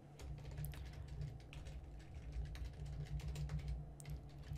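Fingers type steadily on a computer keyboard, a dense run of close, quick key clicks continuing alone throughout.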